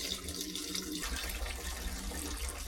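Water gushes steadily out of a Kubota RTV 900 utility vehicle radiator during a flush, a continuous close splashing pour.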